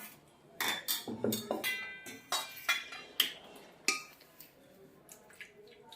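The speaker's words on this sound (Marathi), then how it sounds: "ते मिश्रण आपण आता ताटामध्ये काढून घेऊया" A cooked tomato mixture is scooped out of a pressure cooker onto a plate: irregular metal clinks, taps and scrapes of utensil against cookware, close by, with quiet pauses between strikes.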